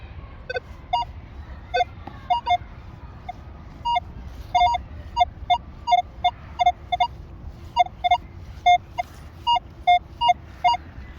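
A Manticore metal detector set to 5-tone mode sounds its target signal, a run of short high-pitched electronic beeps in uneven clusters, switching between high and low tones against a faint background hiss.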